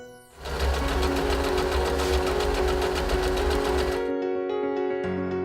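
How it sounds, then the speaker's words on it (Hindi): An Usha Janome Wonder Stitch automatic zigzag sewing machine runs close by, a loud, fast, even mechanical whirr with a rapid rhythmic needle beat lasting about four seconds before stopping, leaving a faint hum. "ये एक ऑटोमेटिक जिगजैग सिलाई मशीन है"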